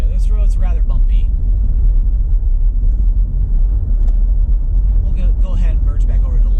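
A car drives a bumpy road on a driving tour through Auburn Hills, Michigan, its steady low rumble of engine and road noise continuous throughout, with people talking over it at the start and end.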